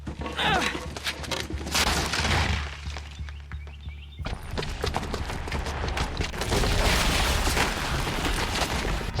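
A booby-trapped bomb detonating in the video game Horizon Zero Dawn gives a loud, sustained roar of rumbling blasts and crackling debris that cuts off abruptly, then resumes as a dense, noisy wash of destruction.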